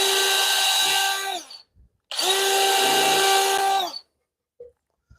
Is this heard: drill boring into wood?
yes